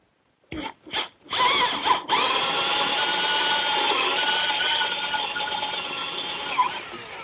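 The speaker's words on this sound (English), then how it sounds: "I've just drilled the holes for my bolts" A power drill bores bolt holes through wooden cross braces for a garden swing, starting with a few short bursts, then running in one steady, loud whine for several seconds.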